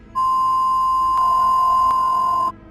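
A loud, continuous emergency broadcast tone on a TV held for about two seconds, shrill and steady, with two brief clicks interrupting it before it cuts off.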